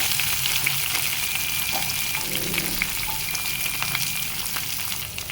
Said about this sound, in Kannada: ಇದೆಲ್ಲನೂ ಹಾಕಿ ಚೆನ್ನಾಗಿ ಫ್ರೈ ಮಾಡ್ಕೋಬೇಕು